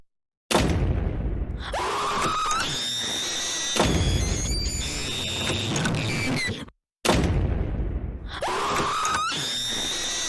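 A door slams repeatedly and someone screams in a high, childish way in a family home on Thanksgiving night. The sound is loud and harsh, with creaks and banging cut by brief gaps and no talking.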